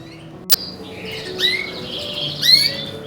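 Canaries chirp and twitter in short bright bursts, with one sharp click partway through, as a female canary is put in with red heavy-feathered males, close and clear over a quiet hum.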